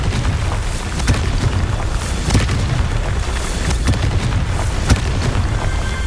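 Confringo fire spell from the video game Hogwarts Legacy, a burst of deep rumbling booms and sharp cracks repeating over a dense, loud roar of battle noise, close and sustained.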